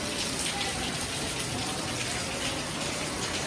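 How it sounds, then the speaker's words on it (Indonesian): Rain falls steadily outside the Masjid Agung Demak mosque in Central Java, a dense, even hiss of water with no breaks, loud and close throughout. "Dan ini cuacanya masih hujan di sini."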